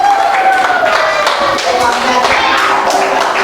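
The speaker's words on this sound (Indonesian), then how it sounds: "beri aplaus dulu untuk temannya ya" Students in a classroom clap for their classmates, a dense, steady patter of many hands that stays loud and even throughout, with some voices and a tonal hum running underneath.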